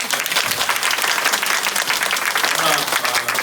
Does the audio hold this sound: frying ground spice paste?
no